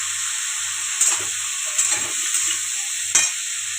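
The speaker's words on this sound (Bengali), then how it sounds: "ওলটা ভাজা ভাজা হয়ে গেছে" Elephant foot yam pieces frying with turmeric and salt, giving a steady close sizzle with a few louder stirring scrapes and bursts along the way.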